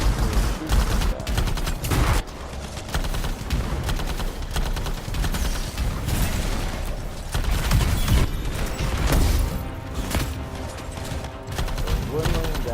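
Rapid, continuous video-game gunfire aimed at a boss in the Anthem stronghold Tyrant Mine, loud bursts and booms layered with music and effects, with someone talking over the shooting.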